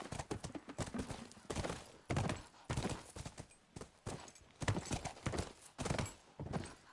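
Horse hooves clip-clop in a video game in a quick, steady rhythm, several footfalls per second, moderately loud and close, with no voices over them.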